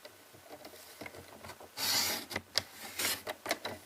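Craft material being trimmed to size, with a short run of dry rubbing and rasping scrapes and a few light taps at close range, with no talking.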